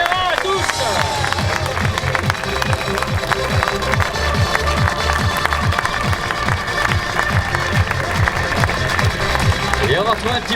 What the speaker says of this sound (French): nous allons pouvoir vivre ensemble un tonnerre d'applaudissements